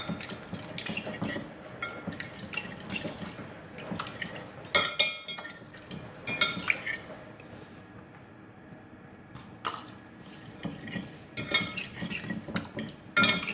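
Cornstarch, ginger and egg white being mixed in a bowl, with irregular clinking and scraping of a utensil against the bowl in bursts, pausing quietly midway before resuming.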